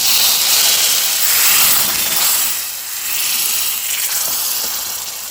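Curry leaves dropped into hot oil for a kadhi tadka, a loud close sizzle and hiss that swells then settles into steady crackling spatter.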